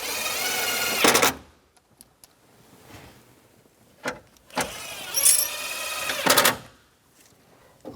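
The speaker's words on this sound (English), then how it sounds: "And put these screws in" A power driver whirs in several short bursts, driving screws in while a 1999-2006 Chevrolet Silverado 1500 dash is reassembled, with quiet clicks and handling noises in the gaps between runs.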